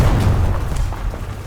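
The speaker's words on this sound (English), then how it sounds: "Artillery!" Artillery shells burst in War Thunder, deep rumbling booms rolling continuously over a loud low-end roar, with several thuds landing in quick succession.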